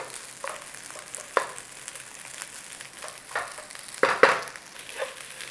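Yang Chow fried rice stir-frying in a pan at home, with a steady sizzle under scattered scraping and tossing clatters from a utensil, louder bursts near the end, and no talking.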